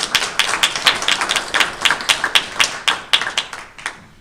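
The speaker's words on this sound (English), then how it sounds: "I'd love to offer them a round of applause." A small group claps at a Belmar mayor and council meeting: distinct, separate hand claps in an uneven, sparse rhythm, close and clear, for about four seconds.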